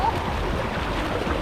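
Broad, continuous rush of water pouring down a chaotic indoor-outdoor waterpark slide, loud and close for a brief moment, with a faint voice mixed in.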